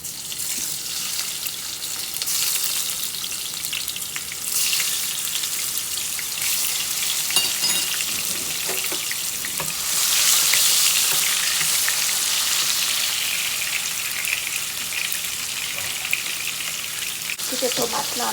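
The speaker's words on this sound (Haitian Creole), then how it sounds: "Kite tomate lan bien fri" Tomatoes fry in a pan with a steady, loud sizzle that runs throughout, with occasional stirring scrapes and a brief louder burst of spattering partway through.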